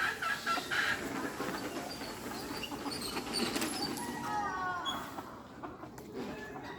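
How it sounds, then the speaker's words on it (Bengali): Domestic chickens cluck around a village house on a foggy morning, intermittent calls over a constant low outdoor rumble, moderately near, with faint voices. "বাড়ির আশেপাশে কতগুলো মুরগি।"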